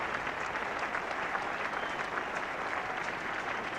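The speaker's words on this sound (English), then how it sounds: "Good applause, and the Pakistan contingent there under the scoreboard." A 1979 World Cup cricket crowd at England versus Pakistan applauds Pakistan's hundred with steady, even clapping that spreads across the ground at a moderate distance, no voice over it.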